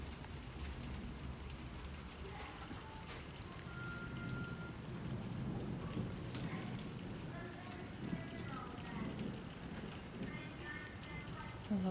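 A spring thunderstorm with a steady rain shower pattering on surfaces, low thunder rumbling through the broadband wash; faint voices and scattered sounds sit beneath the continuous rain.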